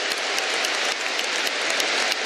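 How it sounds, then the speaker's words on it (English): A packed football stadium crowd at a Real Madrid versus Barcelona match applauds as a substituted Real Madrid player leaves, a steady distant roar of clapping with scattered sharper claps. "Another standing ovation for a Real Madrid player who's played his part tonight"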